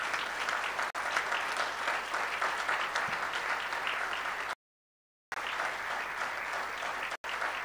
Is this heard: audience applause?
yes